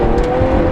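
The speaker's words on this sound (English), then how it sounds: "Listen to that engine, oh my God." Lamborghini Aventador SV Roadster's engine revving, a loud, close, sustained mechanical roar with strong low rumble and a steady tone during a brief burst.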